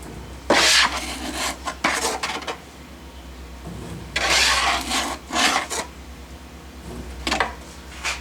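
Petrobond oil-bonded foundry sand being rammed into a small casting flask, heard as bursts of gritty scraping and rubbing with dull thuds in between, fairly close and steady.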